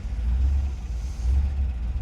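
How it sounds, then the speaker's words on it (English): Steady low idle from a C2 Corvette's 340 hp 327 V8 with solid lifters, a close, loud, continuous rumble that holds even throughout, with no voices. "You can really hear those solid lifters."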